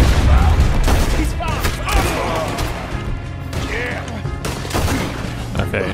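Gunfire in Red Dead Redemption 2, a revolver among the shots, crackles loudly and repeatedly through a busy firefight, mixed with clattering impacts and background game noise.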